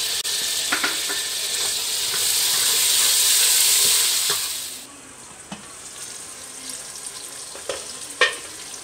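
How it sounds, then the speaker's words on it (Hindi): Tomatoes hit hot oil in a karahi while cooking green chilli mutton karahi, setting off a loud hissing sizzle for about five seconds that then drops to quieter frying with scattered clinks of stirring. "ज़रा सा भूनने के बाद इसमें ये टमाटर डाल देंगे।"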